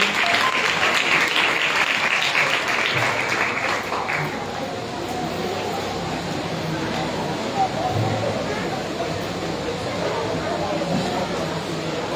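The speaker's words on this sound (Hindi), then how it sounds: "आपकी जोरदार तालियां।" Loud audience applause at a Christian gathering on the sayings of Jesus on the cross, steady clapping from a large crowd filling the whole clip, fading somewhat after the first few seconds into a lingering crowd murmur.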